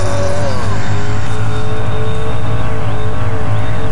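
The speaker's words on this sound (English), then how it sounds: "I've added nitrous and even a turbocharger!" Synthesized race car engine effect with a nitrous boost, built in a sound editor: a loud, steady, sustained high-revving engine drone with a faint whine drifting above it, close and without talk.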